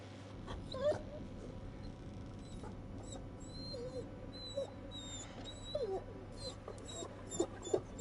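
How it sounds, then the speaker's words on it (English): A dog in the horror game The Devil in Me whimpers in short, faint, high whines scattered over a steady low background hum, with a few louder whimpers near the end. "Oh, is it the same dog?"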